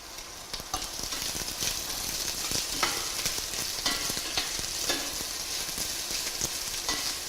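Onions sizzle and fry steadily in a pan while browning for tin fish curry, a dense continuous crackle with occasional stirring scrapes and no talking.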